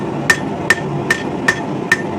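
A hammer strikes hot steel on an anvil five times at an even pace, upsetting the end of an old ball peen hammer in a forge. Each blow rings loud and metallic, with a dull low hum between blows.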